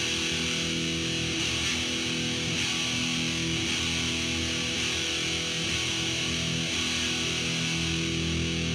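A distorted heavy metal electric guitar power chord rings out thick and sustained, held steady and loud without pause or any voices over it.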